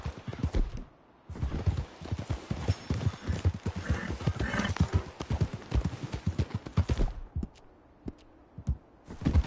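Several horses walk along a wooded path, hooves clopping in a dense, uneven rhythm close by, with brief pauses and a few thuds.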